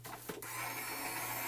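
Gemini Junior die-cutting machine feeding a stack of plates and shims through its rollers: a brief knock, then a steady close motorized hum and grinding rumble that continues evenly, alone with no talking.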